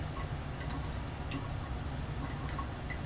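Liquid drips steadily from a glass stopcock during Grignard reaction work in a lab, soft and close over a constant low background hum, with no voices.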